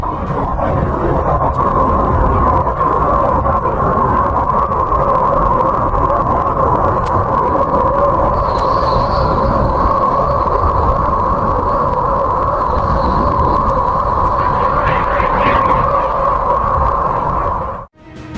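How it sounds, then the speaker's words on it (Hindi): Uranus magnetosphere sounds recorded by Voyager 2 rumble as a steady, loud noisy drone with a sustained mid-pitched hum, with faint whistling tones drifting in partway through and cutting off abruptly at the end. "वायेजर 2 द्वारा रिकॉर्ड की गई अरुण की मैग्नेटोस्फीयर से उत्पन्न ये हैं रहस्यमयी ध्वनियां।"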